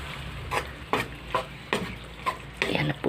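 Sautéed eggplant being stirred in a pan: rhythmic scraping strokes about every half second over a soft background sizzle, close and moderately quiet.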